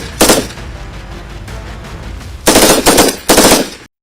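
Bursts of automatic fire from an Indian Army made-in-India medium machine gun, loud and close: one short burst, a pause with low background rumble, then two sustained rapid-fire bursts.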